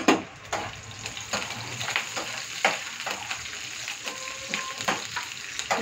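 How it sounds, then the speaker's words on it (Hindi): Long green chillies, curry leaves and red chillies frying in a hot pan for mango rice, a soft continuous sizzle with small crackles and occasional stirring scrapes, fairly quiet and with no talking. "इनको थोड़ा फ्राई कर लेंगे"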